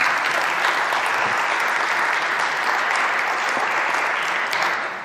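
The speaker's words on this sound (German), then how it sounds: "Ein Applaus bitte." An audience at the re:publica 2018 conference applauds steadily, a dense wash of clapping that carries evenly through the whole stretch and tapers slightly at the end, with no talking.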